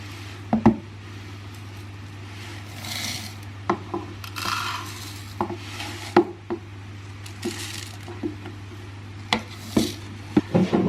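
Dry oats poured into a food processor bowl make soft, grainy rustling bursts mixed with sharp clicks and knocks, close and fairly quiet, with no talking.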